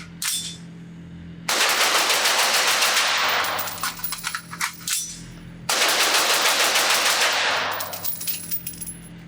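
An LMT MRP-L piston-driven AR-15 rifle is fired very rapidly outdoors on a range in two long loud strings of shots, with a short gap for a magazine change between them.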